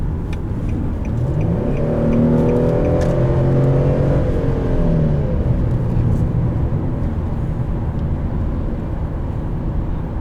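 Infiniti Q40 with a 3.7 liter VQ engine accelerating hard, a loud, close, rising engine drone sweeping up through the gears over about ten seconds, with no talking.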